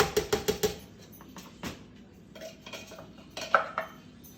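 Flour and chopped butter for homemade buttermilk biscuits tipped into a bowl, with a quick run of sharp clinks against the bowl, then softer scraping and a few scattered taps, close and fairly quiet.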